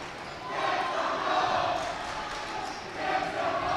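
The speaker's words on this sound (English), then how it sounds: "Crowd's going wild, Coach." A crowd roars steadily at a high school boys varsity basketball game, the loud sustained cheering swelling and dipping under faint commentary voices, with a student section in the gym.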